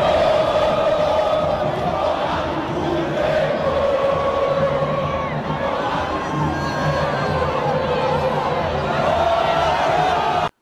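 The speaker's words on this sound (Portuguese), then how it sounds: "Curte aí a torcida." Bahia fans in a football stadium chanting and singing together, a dense, sustained roar of many voices at steady loudness throughout.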